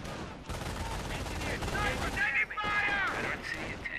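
Rapid bursts of automatic gunfire from an online war game's fight around a medic bunker, dense and continuous crackling shots with mixed weapon sounds and faint background chatter.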